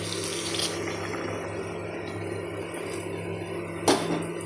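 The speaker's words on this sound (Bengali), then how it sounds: "আলু পটলটা কষানো হয়ে গেছে, এবার এতে গরম জল দিয়ে দেবো।" Hot water poured into a pan of sautéed potato and pointed gourd curry, a steady close watery rush lasting throughout with a brief louder clunk near the end.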